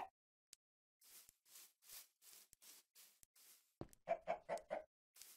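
Chicken clucking in the Minecraft video game, a run of short repeated clucks and squawks with a burst of four quick clucks near the end, fairly loud and with no talking.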